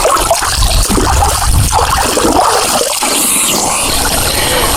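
Creek water flows steadily at a stream used for swimming, a close, continuous rushing and gurgling with no breaks.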